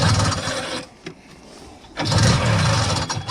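A vintage Ski-Doo TNT snowmobile engine on choke being pull-started, a loud mechanical burst that drops away for a second, then a second rough, close attempt that catches and runs.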